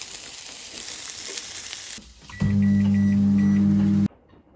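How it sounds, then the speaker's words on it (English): A microwave oven heats chicken and rice, with a steady low hum that starts abruptly after a sizzling passage and stops suddenly, close and loud, with no talk. "I'm then going to put the rice in the microwave"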